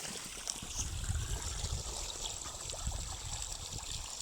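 Water drawn from a village well in Afghanistan flows and trickles in a steady, close, unbroken stream with a faint hiss, and no one speaks.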